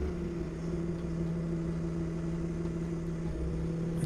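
A forklift's engine drones steadily as the machine pushes onto a slippery, grassy meadow, with a constant low hum and no voices.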